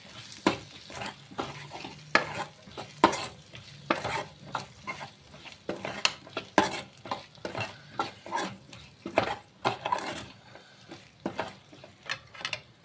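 Peanut-based savoury dish being stirred in a hot pan for a Holi special, with repeated scraping and clinking of a spoon against the pan over a steady low sizzle, close and continuous with no talk.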